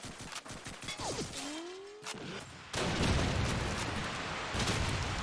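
Grenade going off in Call of Duty 2 during a competitive match, a loud burst that gives way to a sustained rumbling roar of battle noise, following a quieter stretch of scattered pops and whistling sounds.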